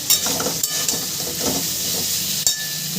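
Vegetables and stalks sautéing with spices in a pan for a fish curry, giving a steady close sizzle and hiss with a few soft stirring scrapes throughout.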